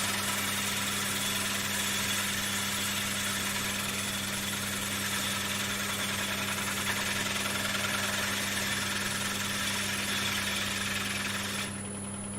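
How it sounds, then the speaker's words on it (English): A wood lathe turns a large platter while a gouge takes a slicing cut, producing a loud, steady motor hum with a continuous bright whirring hiss of the cut throughout, fading slightly at the very end. "Now we have got nice curly shavings. That's a good slicing cut."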